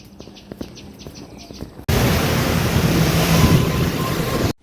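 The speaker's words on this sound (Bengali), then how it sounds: "এখানে বৃষ্টি পড়ছিল, তার সাথে ঝোড়ো হাওয়ার সাথে যা ঝাপটা দিচ্ছিল" Quiet ambience with light ticking gives way abruptly to a loud, rushing roar of wind and driving rain that holds steady, then cuts off.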